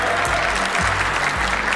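Sustained studio audience applause on a Serbian evening television show, a dense steady wash of clapping that runs through the whole moment without pause, loud and close, with faint music or voices low underneath.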